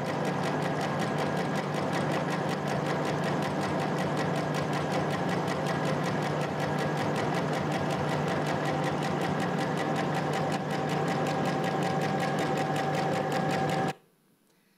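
A textile laying machine lays down threads at about 1,000 per minute, producing a fast, even mechanical chatter that runs steadily and loud before cutting off abruptly near the end.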